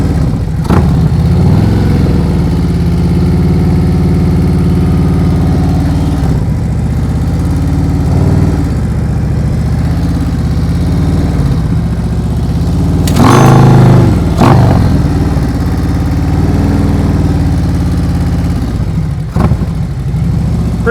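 A motorcycle engine idles and runs at low revs during slow-speed riding practice in Massachusetts, a steady close drone that swells briefly with throttle near the middle and then settles back.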